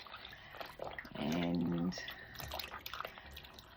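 Piece of felt from a red poppy craft project being washed by hand in water to dissolve a gluey surface, with a short burst of splashing and dripping in the middle, close up, under a brief spoken word.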